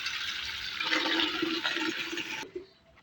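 Water gushes steadily into a bucket on a cow farm, a close, hissing rush that stops abruptly near the end; no voices.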